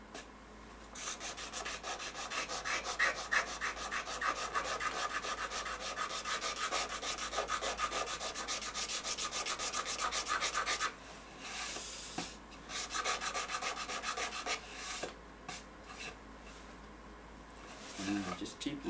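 Scraping a wooden violin top with a hand scraper, a close rhythmic rasping of repeated strokes running steadily, then breaking into shorter separate scrapes toward the end.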